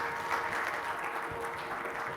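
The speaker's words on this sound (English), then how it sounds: "Can we have Jay with big round of applause," A forum audience applauds a presenter taking the stage for a quick commerce fulfillment talk, a steady, fairly soft wash of clapping that fills the whole moment.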